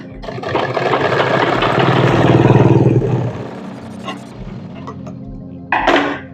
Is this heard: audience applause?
no